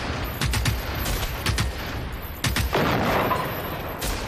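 Bursts of gunfire in the video game Generation Zero, loud sharp shots in irregular clusters with short volleys and pauses, no talking over them.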